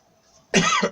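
One dry cough from an adult, short and close, bursting out of near silence.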